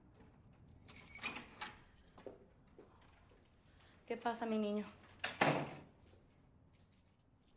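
A mother jingles duplicate house keys to unlock a boy's bedroom door, with bursts of metallic jangling and handling clatter interleaved with someone speaking.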